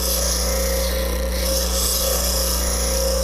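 A woodturning tool tilted left against a bench grinder, with its relief and corner being ground toward a fingernail profile. The steady abrasive rasp runs continuously over a constant motor hum, close and loud, with no talk.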